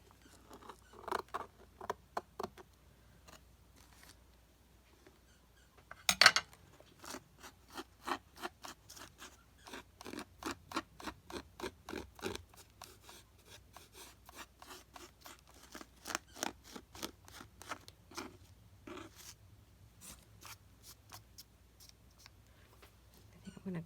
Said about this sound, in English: we'll fray out some of these edges so it doesn't look quite so